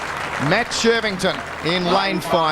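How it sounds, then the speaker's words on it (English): Stadium crowd applauding sprinter Matt Shirvington at an athletics event, a steady broad roar of clapping running under a loud announcer's voice introducing runners by lane. "As you can hear the applause in the background for this man,"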